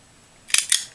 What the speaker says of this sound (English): take my tiny attacher, and I'm going to staple